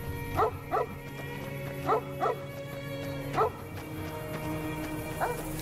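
A dog in the video game Fallout New Vegas barks in short doubled yips, about five bursts spread unevenly over a steady droning game background, moderately close, with no one talking over it.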